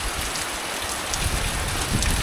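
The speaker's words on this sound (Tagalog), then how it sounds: "Umuulan na naman dito." Steady rain falls close by as a dense, continuous patter with no talking.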